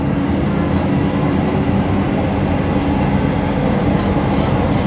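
Continuous heavy rumble and roar from inside a Jabodebek LRT light rail train running along the line, steady and loud with faint clatter on top and no break for the whole stretch.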